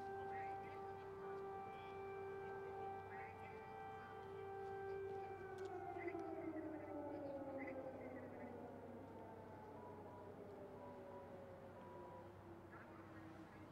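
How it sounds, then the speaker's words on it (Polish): Air raid siren wailing over Independence Square in Kyiv, a long sustained tone slowly falling in pitch, steady and fairly distant, with faint quacking birds and city ambience underneath and no talk. "To jest syrena przeciwlotnicza."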